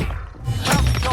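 Corner window glass breaks in the Warzone video game, a sudden loud crash that stays bright and crackling for most of a second after a quieter lead-in, with no talk over it.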